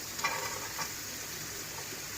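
Chicken fried rice is stirred and sizzling in a pan. A soft, steady frying hiss continues throughout, with a couple of faint scraping stirs near the start and no talking.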